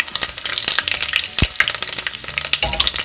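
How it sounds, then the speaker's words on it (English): Cumin seeds sputter and crackle in hot oil with bay leaves in the pan, a dense close-up crackle of quick pops and sizzle, with a few sharper snaps standing out. "And 1 to 2 spoons of jeera. Let it sputter."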